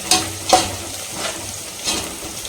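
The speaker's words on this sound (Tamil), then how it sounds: "இங்கே வெங்காயம் வதங்கிட்டு இருக்குது. ஸோ நல்லா வதங்கணும்." Onions sauteing in a pan for chicken biryani, a close sizzle with a few distinct stirring scrapes spaced about half a second to a second apart, no speech.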